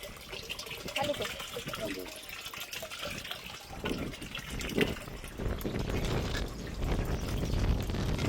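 Water pours into a tank to fill it, a steady rushing gush that swells toward the end, with people talking over it outdoors.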